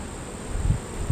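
Honeybees buzzing around a hive during a late July beekeeping inspection, a soft low drone with a couple of brief louder passes close by, over faint outdoor background.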